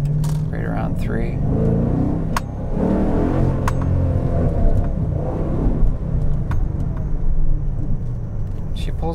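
A Dodge Challenger R/T in first gear, fitted with a differential brace, revs repeatedly through its power band, loud and near with a deep rumbling engine note, while someone talks over it.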